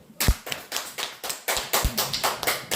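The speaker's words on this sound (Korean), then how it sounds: "박수!" An audience claps in unison at a lecture on elderly health and dementia prevention, about a dozen loud, evenly spaced claps in a steady rhythm, close and with no talking.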